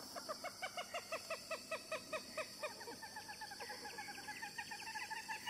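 Common gallinules give rapid, laughter-like clucking calls in quick repeated bursts, moderately distant and faint, with several notes overlapping in a steady chattering series.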